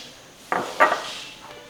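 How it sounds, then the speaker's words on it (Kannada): Chopped carrot and beetroot pieces go into a cooking pot for tomato soup, making two quick, close clattering thuds in a quiet kitchen. "ನಾನಿಲ್ಲಿ ಕ್ಯಾರೆಟು ಮತ್ತು ಬೀಟ್ರೋಟ್ ಹಾಕೋತಾ ಇದ್ದೀನಿ."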